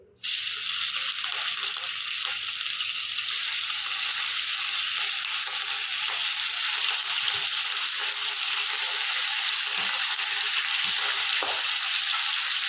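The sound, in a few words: fish pieces frying in hot oil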